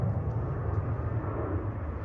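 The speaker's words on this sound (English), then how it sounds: "Plane." An airplane flies overhead near a 2021 Toyota Tacoma TRD Off-Road, a steady low roar that fills the whole moment, loud and sustained with no talk.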